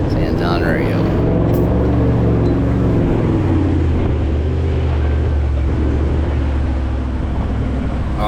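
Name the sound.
diesel V8 4x4 engine driving off-road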